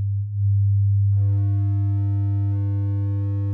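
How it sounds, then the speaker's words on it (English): A pure low sine wave test tone hums steadily, then after about a second a buzzier layer of harmonic overtones joins in as saturation distorts it, the tone turning harsher. "And as the sine wave distorts"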